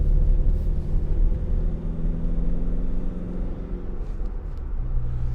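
A 2019 Ford Transit Custom 2.0 TDCi van driving, with steady low engine drone and road rumble heard from inside the cab, a brief dip in the middle before the engine note picks up again.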